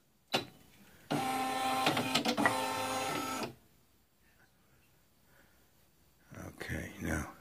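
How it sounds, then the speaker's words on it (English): A Brother PE-770 embroidery machine moves its carriage with a loud mechanical whir lasting about two seconds, then falls quiet; a short clack comes first and a voice speaks near the end. "Raise the needle. Carriage will move."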